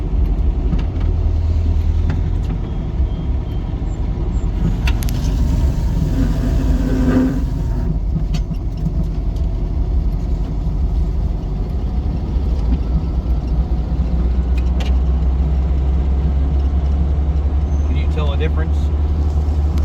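Desert-style Volkswagen Karmann Ghia with new shock absorbers on a test drive, a loud, steady engine drone and road rumble from inside the car, with people talking over it.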